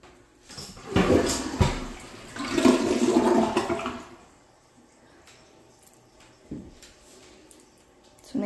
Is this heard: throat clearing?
no